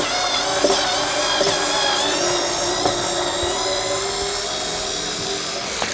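An INTERTOOL WT-0300 cordless screwdriver backs a screw out of a wooden board, giving a steady, continuous high motor whine that stays close and even throughout with no talking.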